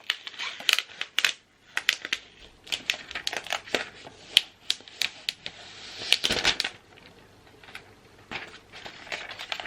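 Packaging of a 2019 refurbished MacBook Pro is torn and ripped open by hand, with a close series of sharp crinkling, tearing and rustling bursts at an uneven pace.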